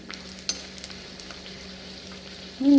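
Kerala nei pathiri frying in hot oil makes a steady close sizzle with small crackles, and a louder tonal burst rises near the end.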